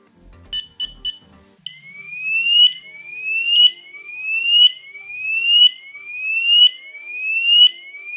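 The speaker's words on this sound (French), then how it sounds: "Dès que l'on passe et que le système d'alarme est armé, paf, elle retentit." A few short electronic beeps, then a loud home alarm siren, 90 decibels maximum, wails in repeated rising sweeps, about one per second, continuing steadily with no voices. The system is a Homematic IP kit.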